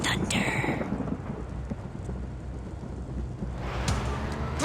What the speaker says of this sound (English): There's thunder.